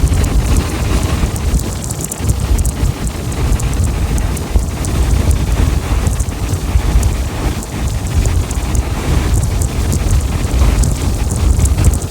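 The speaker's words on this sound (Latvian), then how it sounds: "Ārā stiprs vējš, papīri kaut kādi lido musuri." Strong wind blows hard outside on a road trip through Texas and Arizona, a loud, steady roaring rush that buffets the microphone without pause, with no talk.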